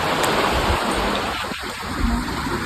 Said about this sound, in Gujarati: બારિશ થી બારિશ આ ગઈ